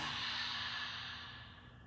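A long, deep exhale during yoga breathing, a close, airy breath out that starts full and slowly fades over about two seconds, heard alone.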